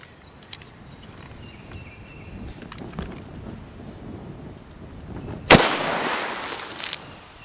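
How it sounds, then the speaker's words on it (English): A single sharp gunshot from a 12 gauge shotgun fitted with a .38 special adapter, fired outdoors at a soda bottle, a loud crack followed by a brief spray or hiss of liquid after quiet ambient noise. "let's just see if it's accurate enough just to have a little fun with a little 2-liter bottle of soda"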